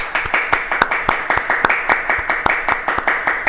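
An audience claps steadily at a live online broadcast, a brisk, even rhythm of sharp hand claps that sounds fairly close and continues without a break.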